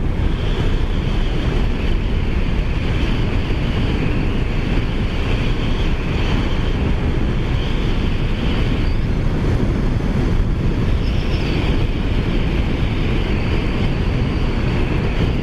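Steady, loud wind roar rushing over the microphone while riding a Kawasaki ZX14R motorcycle on a desert road toward the mountains near Gila Bend, a constant broadband rush with no talk.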